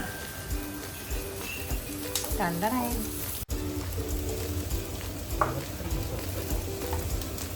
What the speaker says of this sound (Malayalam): മട്ടൺ ലിവർ ഫ്രൈ ആണെന്ന് നമ്മൾ ട്രൈ ചെയ്യുന്നത്